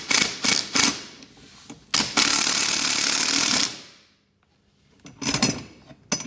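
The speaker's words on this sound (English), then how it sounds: "No, it's a ratchet spanner." Ratchet spanner tightening bolts on a Liteweight 1300 caravan, several quick close clicking bursts, then a long steady ratcheting run, a silent gap and more clicks.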